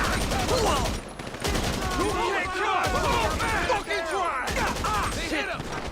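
Enemy gunfire crackles in a GTA 5 Online firefight, dense overlapping shots and bursts running throughout while voices talk over the shooting.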